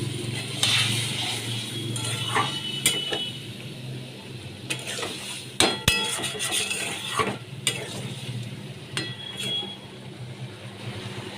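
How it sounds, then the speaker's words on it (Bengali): Ridge gourd and potato posto being stirred in a pan after water is added, with a steady close sizzle under repeated scraping and clinking spatula strokes against the metal. "জল দিয়ে আমি ভালো করে আবার কষিয়ে নেবো"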